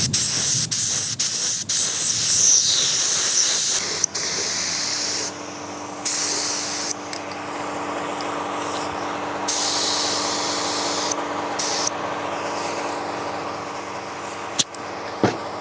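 Spray gun hissing steadily as it paints parts of a 1993 Chevrolet dually truck frame, fed by an air compressor regulated to 50 psi; a loud continuous spray broken by a few short pauses and trigger releases, close by with no talking.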